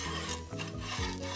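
A ragi and spinach dosa cooks in oil on a pan, giving a soft, close crackling sizzle with light scraping textures over a brief moment, fairly quiet and free of talk.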